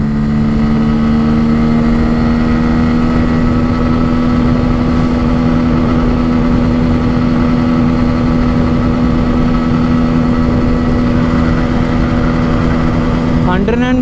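A 2024 Bajaj Pulsar N160 motorcycle engine pulls hard in fourth gear during a top-speed run, a loud, steady droning whine under constant wind rush, holding pitch before climbing sharply right at the end.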